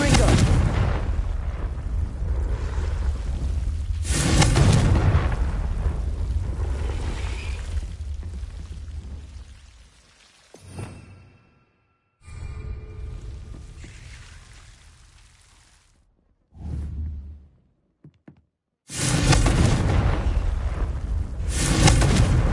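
Repeated Confringo fire spell blasts in the Hogwarts Legacy video game, loud booming explosions in bursts separated by short quiet gaps, with a voice casting spells.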